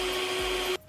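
A power drill whines steadily at close range while boring holes into a 2019 Ram 1500 truck, then cuts off abruptly near the end.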